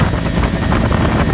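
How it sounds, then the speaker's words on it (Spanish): Helicopters flying over an area near a hydroelectric site after a disaster, a loud continuous rotor drone with pulsing chop and wind noise, no voices. "Se observan los helicópteros sobrevolar la zona"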